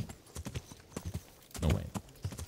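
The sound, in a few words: horse hooves clip-clopping, from a video game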